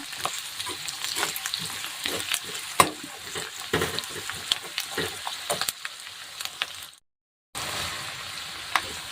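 Finely chopped small onion frying in hot oil, a steady crackling sizzle with stirring scrapes throughout, close and fairly loud, briefly cutting out near the end before resuming.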